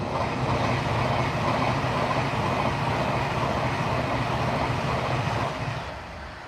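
A Pendolino passenger train rushes past close by near Crewe, a loud, steady broadband roar of wheels and air that holds for several seconds and then begins to fade away.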